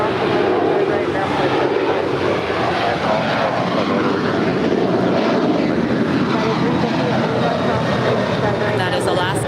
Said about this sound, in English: That is Alaska 817 off to Honolulu. It's a 14-year-old 737-800.